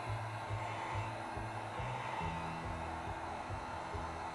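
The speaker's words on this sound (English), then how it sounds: "let's take the heat gun to it" A heat gun blows steadily over wet acrylic pour paint, a constant, close, loud hiss of rushing air with a low hum that shifts slightly in pitch throughout.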